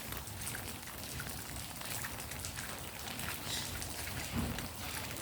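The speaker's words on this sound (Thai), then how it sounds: "ฝนก็ยังตก" Steady rain falls throughout on a flooded street, a dense even patter with no voices, moderately loud and close by.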